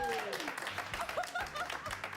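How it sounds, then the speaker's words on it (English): An audience at Nintendo Treehouse Live applauds at a moderate level, rising and falling in bursts beneath a person talking over it. "Freaking applause."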